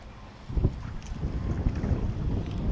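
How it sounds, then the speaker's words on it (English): Strong wind buffets the microphone while fishing for spawning sunfish from a boat, a low rumbling roar that rises after a quiet start and keeps gusting steadily, close and loud. "If the wind wasn't so high,"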